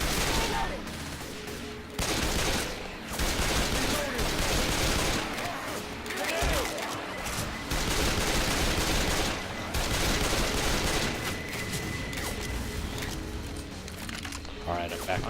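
Dense, continuous gunfire from Left 4 Dead 2 co-op play rattles loudly through most of the stretch, overlapping other game noise in a thick, sustained barrage.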